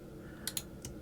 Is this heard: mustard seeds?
no